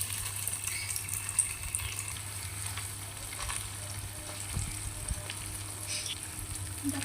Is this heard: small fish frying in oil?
yes